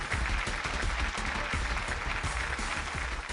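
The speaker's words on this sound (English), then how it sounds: "Can you all give me a loud cheer for all the 16?" A quiz audience at the Ascent Engineering Mastermind 2015 final cheers and applauds the finalists in a dense, continuous roar of clapping and shouting that stays loud for the whole stretch.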